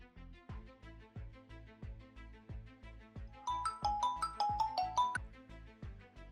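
A phone's ringback tone plays while a call is placed: a steady, evenly spaced electronic pulse, with a bright, tinkling melodic chime layered over it toward the middle. No one speaks.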